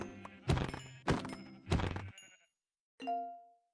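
Several short, loud Minecraft sheep bleats in quick succession, followed by a pause and one final bleat, clear and close with no talking.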